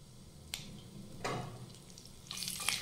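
Curry leaves dropped into hot oil with mustard seeds and cumin for a sevai upma tempering, giving a quiet bed of sizzle broken by a few sharp, scattered pops and crackles.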